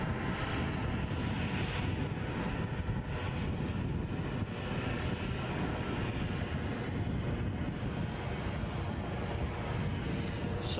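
An Airbus A320neo takes off from Edinburgh airport toward Bristol: a sustained, moderately loud jet engine rumble with a constant broad roar and no speech, slightly windy.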